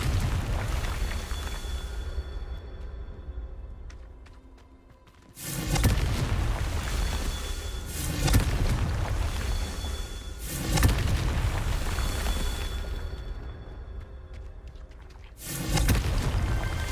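Confringo blasting spells explode in the Hogwarts Legacy video game: four loud, deep booms arrive a few seconds apart, each followed by a rumbling crackle that fades before the next blast.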